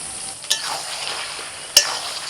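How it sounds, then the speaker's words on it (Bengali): Mutton frying with ginger paste in a pan for a Bengali mutton thali, a soft continuous sizzle broken by two sharp clinks of the stirring utensil. "বেশ কিছুক্ষণ কষে নেওয়ার পরেতে এবার দিয়ে দিচ্ছি আদা বাটা।"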